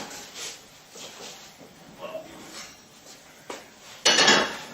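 A hot Dutch oven holding bread dough is handled and lifted out, with faint metallic clanks and scrapes over a quiet room, ending in a louder clatter of the heavy pot.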